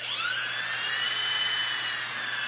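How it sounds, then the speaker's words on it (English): Electric motors of a Pixhawk-controlled drone, with one motor not running, spinning up to a high steady whine with layered rising tones that level off, close and loud. "All motors are going except for this one."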